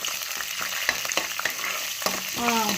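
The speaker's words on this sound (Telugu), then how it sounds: "సో నేను మినపప్పు, జీలకర్ర, ఎండుమిరపకాయలు వేసుకున్నాను" Urad dal, cumin and dried red chillies fry in hot oil, giving a close, steady sizzle with small crackles and pops and a few light clinks of stirring.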